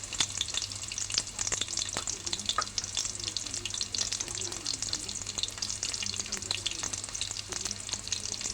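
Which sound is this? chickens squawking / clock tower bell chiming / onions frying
onions frying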